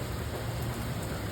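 Steady rain during a thunderstorm at night, a dense, even hiss of falling drops with a low rumbling undertone, constant and unbroken throughout.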